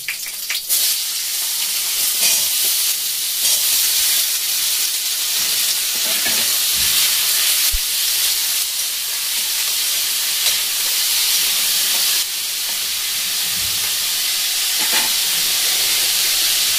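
Small diced potatoes hit hot oil in a frying pan where lentil dumplings were just fried, giving a loud, steady sizzle and hiss that runs throughout with a few scraping stirs.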